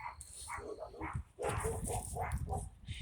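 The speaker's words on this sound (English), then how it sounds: "Do you hear the dogs?" Several dogs bark and yip in quick, overlapping bursts, fairly close, with a brief pause before the barking resumes more densely.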